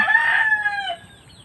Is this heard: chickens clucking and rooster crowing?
yes